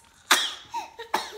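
A child sneezes and coughs sharply a few times in quick succession, close and alone.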